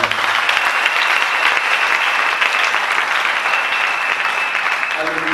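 A church congregation applauds loudly and steadily with cheering mixed in, a dense close wash of clapping that holds for several seconds, with voices in the crowd.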